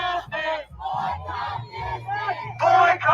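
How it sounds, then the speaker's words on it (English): Protesters gathered outside in front of Disney chant in rhythmic, repeated shouted bursts, a crowd of voices heard from a moderate distance with short pauses between phrases. "This is them out there, out in front, protesting Disney."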